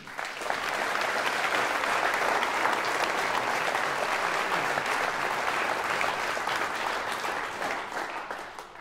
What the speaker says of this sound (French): Je vous demande d'applaudir Sophie Elie